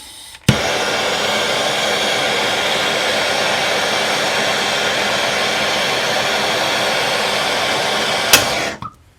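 A heat gun blows steadily on the strut ball joint of a Porsche 928, a constant loud airy roar that starts with a click, holds for about eight seconds and cuts off.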